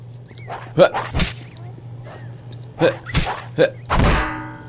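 A dog barking in the video game Postal 2, several sharp yelps and barks in short bursts with thuds, heard close over a steady low game hum.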